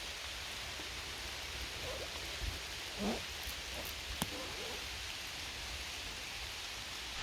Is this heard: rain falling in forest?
yes